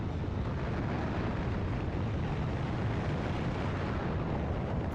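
Artillery shell explosions in the Factorio Space Age game rumble as a steady, dense low roar of distant blasts, continuous and fairly faint throughout with no talking.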